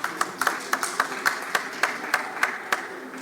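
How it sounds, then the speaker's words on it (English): A small audience gives sparse, evenly spaced claps for the panelists at an educational innovation panel, with roughly a dozen distinct hand claps sounding close and crisp against a quiet room. "So please, a round of applause for our panelists."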